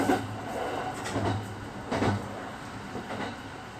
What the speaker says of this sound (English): The train is running on the ground after getting off the elevated line.